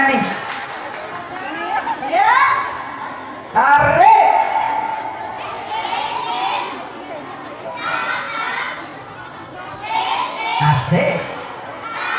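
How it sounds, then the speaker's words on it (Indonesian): A crowd cheers and shouts at a women's gymnastics competition held for Kartini Day, with children's voices mixed in and an announcer speaking loudly over the noise. "Beri tepuk tangan yang meriah."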